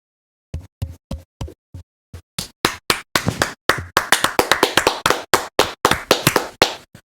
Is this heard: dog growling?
no